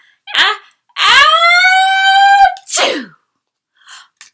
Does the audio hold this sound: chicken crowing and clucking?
no